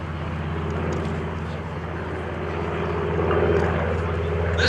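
A warbird with a big Pratt & Whitney R-2800 radial engine of 2,800 cubic inches runs up for takeoff at an airshow, a distant steady propeller drone swelling slightly near the end, with a commentator talking.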